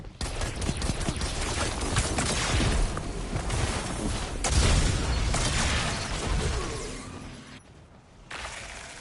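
Explosions in the Destiny 2 video game burst in a dense, crackling barrage of booms and pops, with whooshing effects layered over continuous gunfire, loud and busy before dropping off near the end.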